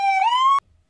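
A cartoon police car siren, one short rising electronic wail with a bright harmonic tone, loud and clean for about half a second, then cut off abruptly into near silence; no talking.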